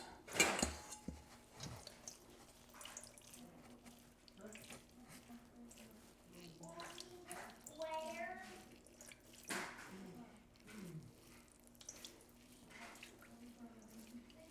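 Water pressed out of two cans of tuna packed in water, trickling and dripping in short bursts, with a few clicks and knocks from handling the cans in a quiet kitchen.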